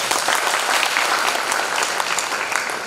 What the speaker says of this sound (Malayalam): എന്തായാലും അച്ഛനങ്ങനെ ഒരു നല്ലൊരു കൈയടി നമുക്ക് കൊടുക്കാം.